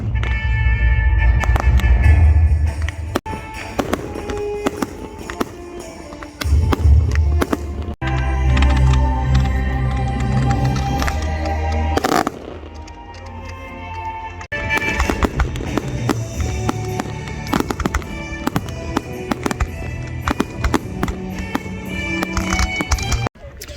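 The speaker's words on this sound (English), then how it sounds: "So that's the firework display done." A long stretch of fireworks: dense crackling, rapid pops and sharp bangs overlapping continuously, loud and close, with brief shifts in intensity throughout.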